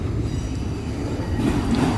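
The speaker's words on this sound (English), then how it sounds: "this auto rack train is" An auto rack freight train rolls around a bend in Ohio with a steady, close rumble of railcars and wheels on track, and a faint squeal starts to rise toward the end.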